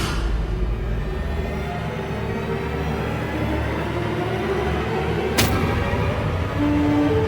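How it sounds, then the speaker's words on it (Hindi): A loud, dense rumbling roar with one sharp crack partway through, like an explosion amid heavy continuous noise. "ये विस्फोट"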